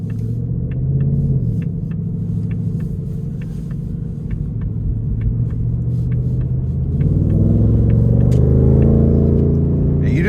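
Deep steady rumble of a 2026 Ford Mustang GT Premium's 5-liter V8 from inside the cabin while driving, swelling louder toward the end as the engine pulls harder.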